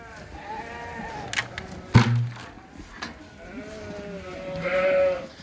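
Dorset sheep bleat repeatedly on a farm, several overlapping calls at moderate distance, with one sharp knock midway and low ambient outdoor noise.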